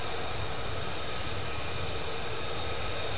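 Military aircraft engines roar steadily at RAF Lakenheath, a loud, continuous broadband rumble with no break across the whole moment and no voices.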